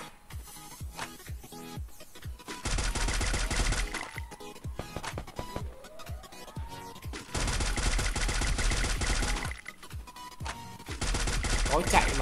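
Sustained automatic gunfire from Free Fire hammers away at a gloo wall in long loud bursts, broken by brief gaps and lighter shots, with a voice talking over parts of it.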